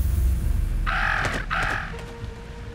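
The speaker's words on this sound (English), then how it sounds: "I should get rid of all the crows." Two harsh crow caws ring out one after the other in the Jenny LeClue game, clear and fairly close above a low ambient bed, with no talking.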